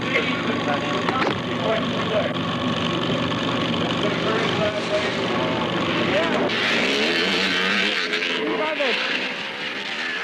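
Vintage 1970s motocross bikes, including 125s, with their engines running, a continuous buzzing drone of several motors near and far, heard under someone talking throughout.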